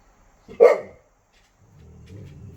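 A single deep Great Pyrenees bark, close and loud, followed by a soft low rumble.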